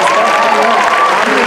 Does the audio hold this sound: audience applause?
yes